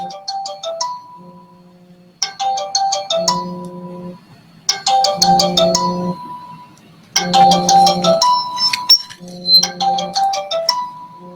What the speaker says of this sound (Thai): มีสายเข้ามาเนาะ